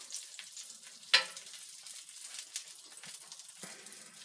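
Hot dogs sizzle on a grill with a soft, continuous crackling hiss, broken by a sharp tap or scrape and a few faint pops, fairly quiet with no speech.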